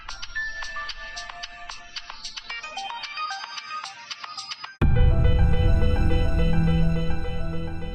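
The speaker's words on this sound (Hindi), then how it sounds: "पारेख हाउस से फोन क्यों आ रहा है?" A ringtone on a telephone repeats a melodic electronic pattern, then cuts sharply into a louder, fuller tone that continues to the end, with no voices.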